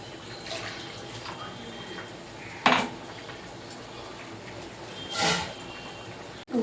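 Water splashes into a pot of simmering turnip and katla fish curry in two short pours, with faint clinks of utensils against a low kitchen background.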